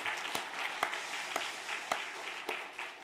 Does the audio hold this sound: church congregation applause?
yes